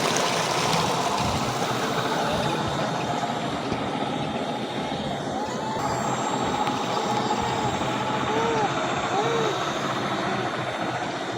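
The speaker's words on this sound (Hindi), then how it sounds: "माशाल्लाह ट्यूबवेल चल रहा है" A tube well pump runs at a home in Pakistan, a steady droning motor with a constant rush of pumped water, continuous and fairly loud throughout.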